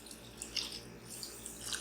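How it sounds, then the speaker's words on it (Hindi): Water is poured into a pot of browned meat while cooking harissa, a soft, steady splashing and trickling with light drips, fairly quiet and close, with no talking. "अब हम इसके अंदर पानी डाल देते हैं"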